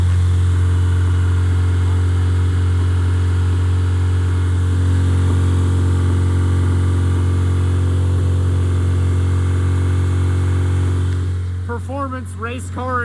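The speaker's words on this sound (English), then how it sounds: "performance race car exhaust" A K-swapped Honda Civic hatch idles through a performance race exhaust with a loud, steady low drone, close by. Voices break in over it toward the end.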